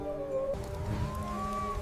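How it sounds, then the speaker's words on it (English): A predator howls through a stormy night near livestock fences. Several long, wavering tonal voices overlap at moderate volume over a low rumbling background. "No, that's a real howl."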